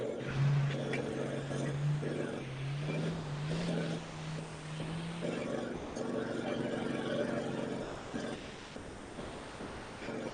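Racing cars roar across a bumpy grassy field, a droning engine note rising and shifting in pitch, heard from a distance with wind buffeting the microphone and a voice talking over it.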